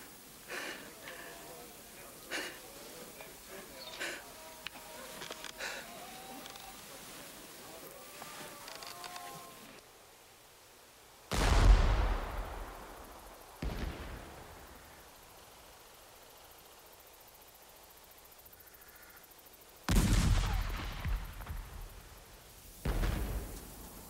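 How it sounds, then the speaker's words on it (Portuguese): Battlefield bombardment in a film about the Canudos war: several heavy booming blasts with rumbling decays, some seconds apart, following a stretch of quieter noisy ambience with faint voices. "O bombardeio."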